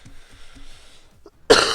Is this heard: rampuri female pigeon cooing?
no